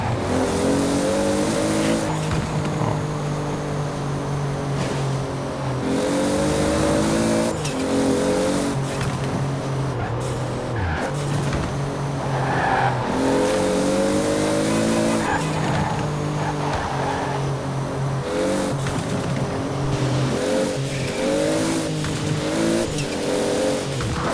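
A Toyota Supra in Forza Horizon 4 drives and drifts, its engine revving and droning loudly as tires squeal and skid across repeated slides, with gear shifts breaking up the steady roar.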